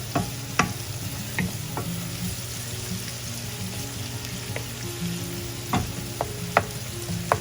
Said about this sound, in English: you do need to keep mixing it from time to time, just to ensure that they all cook on an even manner